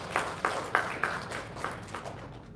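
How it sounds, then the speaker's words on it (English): Applause at an official launch event in India for the team behind a free animated financial literacy programme. It comes as a short, fairly faint run of scattered claps that thins out and fades within a few seconds. "a round of applause for all the people who are behind this to make it successful"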